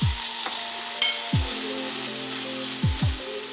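Eggplant masala for a prawn and eggplant curry sizzles softly in a pan, broken by a few dull knocks and scrapes of a spoon as it is stirred, with no voices.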